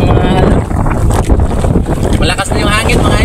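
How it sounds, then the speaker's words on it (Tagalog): Strong wind buffets the microphone with a heavy, roaring rumble, loud and continuous throughout. "malakas na yung hangin"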